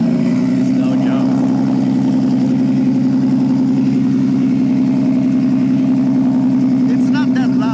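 Modified VW Lupo drag car fitted with two turbocharged VR6 engines idles with a deep, steady, loud rumble that has a fast pulsing throb, close by and constant throughout.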